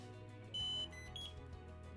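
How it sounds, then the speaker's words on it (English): Short electronic beeps from a Socket S700 barcode scanner sound faintly, a few high tones in quick succession over a low background hum. "you'll hear three beeps"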